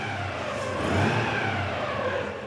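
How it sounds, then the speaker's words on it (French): Engine of a 47-year-old Citroën Ami 8 revving steadily as it tows a car inside a cluttered warehouse, a continuous close, moderately loud drone with no talk. "le seul remorqueur en état de marche, c'est une Ami 8, âgée de 47 ans."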